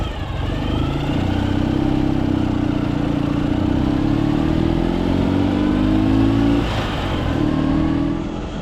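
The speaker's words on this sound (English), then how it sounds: "Until I revved up the motor" A motorcycle engine revs steadily on a New Year's ride, its loud, continuous mid-pitched drone rising and falling slightly with a brief surge near the end, mixed with rushing wind noise and no talk.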